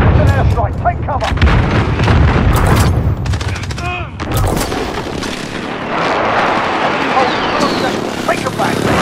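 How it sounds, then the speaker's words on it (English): Airstrike artillery explosions in the Call of Duty Modern Warfare video game boom and crackle in heavy, overlapping blasts alongside gunfire, with voices speaking over the barrage. "It's an airstrike. Take cover."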